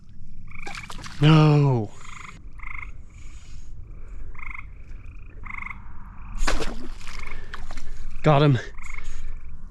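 Frogs croaking at a pond during frog spear hunting, loud close deep croaks in three bursts over a steady background of smaller chirping frog calls, with someone speaking briefly.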